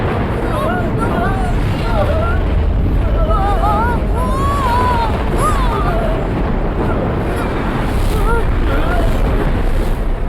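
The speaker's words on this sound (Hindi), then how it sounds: "ये टॉर्नेडो इतनी जोरों से घूम रहा है कि मेरा सिस्टम हैंग होने लगा है" A cartoon tornado whirls with a constant loud, rushing wind roar through the whole stretch, while voices talk over it.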